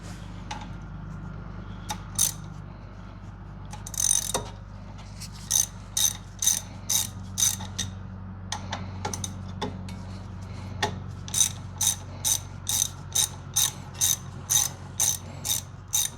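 A ratchet tightens the front brake caliper bolts on a 2012-2017 Toyota Camry, with sharp metallic clicking in short rhythmic bursts and brief pauses, close up in a quiet space.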